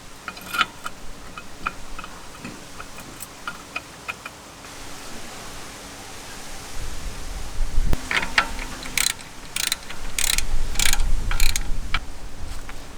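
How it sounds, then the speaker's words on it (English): Ratchet wrench tightening the top nuts on a swivel hub during a rebuild, with quick bursts of clicking early on and louder, denser metallic ratcheting strokes toward the end, close and alone with no talk. "so now we're tightening up the nuts up the top here"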